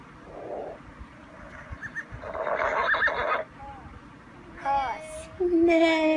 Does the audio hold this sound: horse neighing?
yes